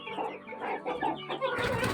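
Hens and roosters cluck steadily inside a farmyard coop full of this year's young birds, a dense overlapping flock chorus close by that grows busier and louder toward the end, with no talking.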